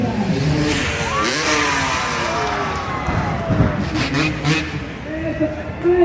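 Motorcycle engine revving hard during a Red Bull stunt show in a historic town centre, with rising and falling whines as the bike accelerates and lands, under an excited commentator and crowd noise.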